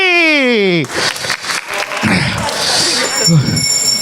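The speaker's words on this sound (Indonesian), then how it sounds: "Beri tepuk tangan untuk Aldi dan juga Budi." A studio audience at a televised stand-up comedy show claps for two comedians after a set, loose scattered applause that follows a sliding electronic tone and runs under someone talking.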